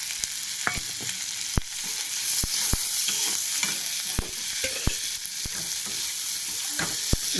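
Egg bhujia with chopped vegetables, salt and turmeric frying in a pan, a steady loud sizzle broken by repeated sharp spatula scrapes and knocks against the pan, close by and with no talking.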